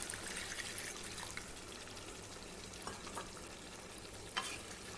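Chicken fry gravy simmers and bubbles in a pan while being stirred, giving a soft, steady sizzle with faint scraping, heard alone at low volume.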